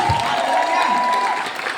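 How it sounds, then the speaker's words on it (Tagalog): Congregation at a church gathering breaks into applause, a short burst of dense clapping from the crowd with a faint tone running beneath it, lasting under two seconds. "Palakpak naman din ako."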